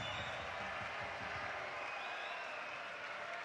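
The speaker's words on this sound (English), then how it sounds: "you hear the wolf whistles from the crowd as they enjoy the air ball from the Croatians" A basketball arena crowd at a Netherlands v Croatia FIBA World Cup European qualifier roars and whistles after a Croatian air ball, a steady dense wash of cheering with faint high whistles over it.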